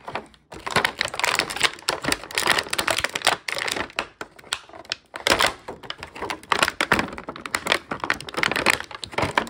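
Blister plastic and cardboard of a McFarlane Warhammer Space Marine action figure package being cut open, a busy run of close crinkling, snipping and crackling with brief pauses, no talking.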